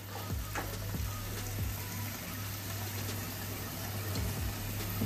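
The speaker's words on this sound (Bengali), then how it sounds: "আমি পেঁয়াজ, আদা, রসুন বাটাটা 5 মিনিটের মতো কষিয়ে নিলাম একটু।" Onion, ginger and garlic paste sizzles steadily in a pan for chicken rezala, with occasional stirring scrapes and soft pops, fairly quiet and continuous.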